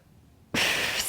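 A sharp, loud breath or exhale during an intense arms-and-shoulders strength workout, starting abruptly after a quiet moment and holding steady as a broad hissing rush.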